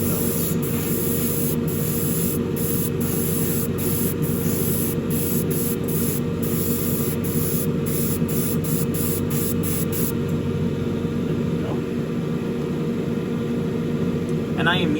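Airbrush spraying Tamiya XF1 flat black acrylic, thinned with Tamiya X20A, onto hoses and belts of a Revell 1971 Boss 351 Mustang model kit: a steady close hiss runs throughout with brief interruptions early on, under a low background hum.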